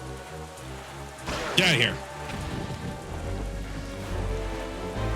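Rain in The Legend of Zelda: The Wind Waker, a steady hiss of falling rain under game music and sound effects, with someone talking briefly over it.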